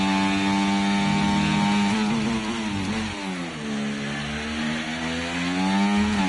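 An F1 24 race car engine in the video game sounds like a chainsaw: a loud, harsh, buzzing high-revving drone with pitch sweeps up and down, close and continuous, with no speech.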